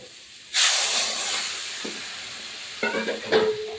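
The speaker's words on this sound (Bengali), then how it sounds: "আমি এবার জল দিয়ে দিচ্ছি" Water poured into a hot pan of soybean and pointed gourd curry erupts in a loud, sudden sizzling hiss that gradually settles, followed by a few stirring scrapes near the end.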